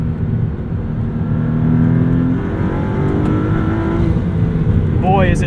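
A 2023 Maserati MC20 engine hums steadily and then builds, its pitch climbing as it accelerates on a canyon road, with a rising whine near the end.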